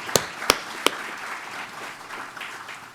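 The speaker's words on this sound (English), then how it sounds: "can I ask the room for a big round of applause for everyone who's here?" A room of people at an evening speech event clapping, opening with three sharp, isolated claps before settling into a thin, scattered patter of applause at moderate distance.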